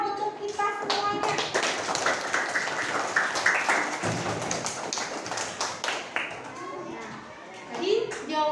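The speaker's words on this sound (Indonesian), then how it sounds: "Beri tepuk tangan untuk kita semuanya." A room full of schoolchildren clapping together, a steady burst of applause with young voices chattering through it.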